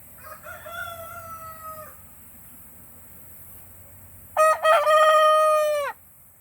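A rooster among a daughter's backyard chickens crows in a garden setting: one faint crow early, then a loud, close, drawn-out cock-a-doodle-doo near the end, over quiet outdoor background with no talking.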